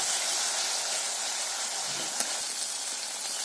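Turmeric and chilli powder spices sauté in a hot pan for a fish curry, giving a steady, broad sizzling hiss that continues without break, with no talking.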